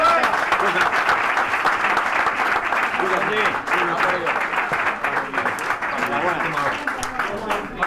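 Applause from the crowd at an official boxing weigh-in for a European featherweight title bout, many hands clapping steadily for several seconds while a voice carries on over it.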